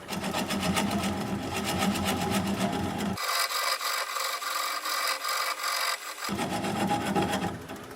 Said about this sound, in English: I'm going to switch to a 3/8 inch swept back bowl gouge